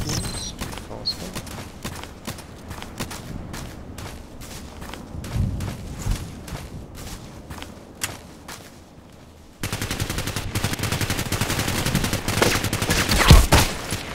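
AEK-971 rifle gunfire in the game Contract Wars rattles in rapid automatic bursts, steady and sharp, then continues more densely against louder background game noise.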